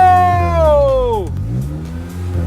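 An old project car's engine turns over and catches, its rising whir sliding down into a low, rough idle that settles and continues up close, with no one speaking over it.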